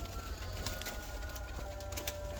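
Young vango pigeons in a shipping box, faint soft cooing and rustling heard close by against a low background hum.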